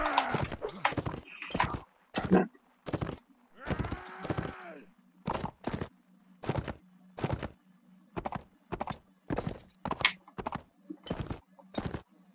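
A horse gallops in the medieval combat game Mount & Blade: Warband, its hoofbeats landing as sharp, evenly spaced thuds in a steady rhythm, with a couple of brief snorts or neighs mixed in early on.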